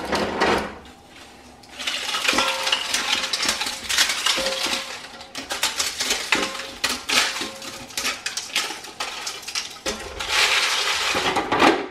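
Dried peppers for homemade smoked paprika are crushed by hand, giving a continuous close crackling and crunching with dense brittle snaps that keep going, slightly quieter in places.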